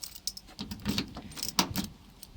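A set of two different keys for a 1980 Mk 1 Ford Fiesta 1117cc jangles up close in irregular metallic bursts, with a louder shake near the middle.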